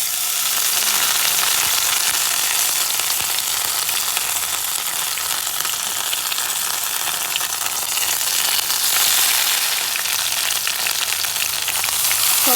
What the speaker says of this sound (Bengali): আমি এখন পাতলা ব্যাটারে পাতুরিগুলিকে চুবিয়ে তারপর আমি তেলে দিয়ে দিচ্ছি।